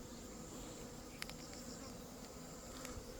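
Honeybees buzzing around beehives in an apiary, a dense steady hum of many bees with a few individual bees passing close by, continuous and fairly quiet.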